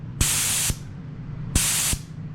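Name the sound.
spray gun spraying lacquer in a fan pattern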